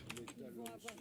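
Quick keystrokes patter on a computer keyboard during a Heroes of the Storm game session, a short burst of clicks close by with a voice talking underneath.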